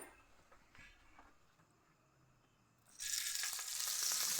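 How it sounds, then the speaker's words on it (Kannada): Green chillies hit a little hot oil for chutney. There is a faint quiet stretch, then a sudden loud, close sizzling hiss that holds steady to the end. "ಸ್ವಲ್ಪ ಎಣ್ಣೆ ಹಾಕೊಂಡು ಕಿಶಿ ಚೆನ್ನಾಗಿ ಹುರ್ಕೋಬೇಕು ಮೆಣಸಿನ್ಕಾಯಿ"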